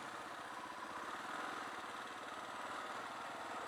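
A 2022 Kawasaki KLR650 single-cylinder motorcycle engine drones steadily while riding, a faint, even mid-pitched thrum with continuous wind rush and no talking.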